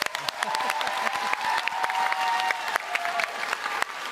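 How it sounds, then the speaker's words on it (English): A crowd claps in sharp, scattered bursts at a live Minecraft convention show, a moderate round of applause that carries on steadily without speech. "let's give a final round of applause for our amazing guests"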